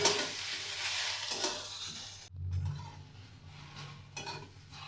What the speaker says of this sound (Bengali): চালতাগুলোকে আমি ভালো করে নাড়িয়ে নেব